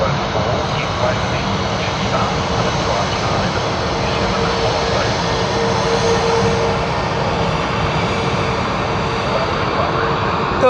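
Jetstar airliner jet engines at Sydney Airport, a broad, steady roar sustained throughout at moderate distance, with a person talking over it.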